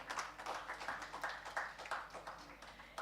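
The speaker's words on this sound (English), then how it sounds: "Let's welcome him with a round of applause." An audience at the IP Congress 2023 publishing conference applauds to welcome a speaker, a faint, steady patter of many hands clapping continuously and heard from a distance.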